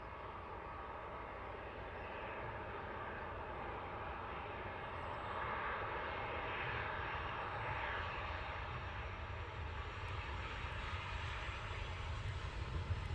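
Titan Airways aircraft at Luton Airport, its engine giving a steady, broad roar that swells slightly midway and holds throughout, heard from a distance with no talking.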